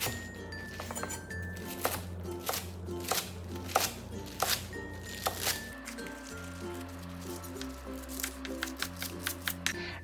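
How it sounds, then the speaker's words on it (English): A knife chopping cabbage into bite-sized pieces on a board, giving a steady run of crisp, evenly spaced cuts up close, with soft background music playing underneath. "Cut the cabbage into bite-sized pieces."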